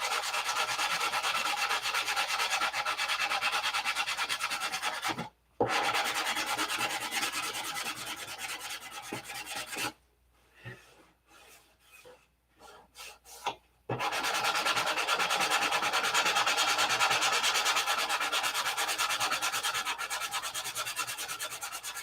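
Sandpaper rubs steadily over wood, taking off heavy aqua green paint in long continuous strokes, close and loud, with one short break and a longer stretch of quieter scraping in the middle.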